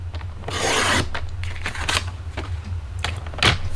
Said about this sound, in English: We're going to cut it at 5 1/2 on the 11 inch side.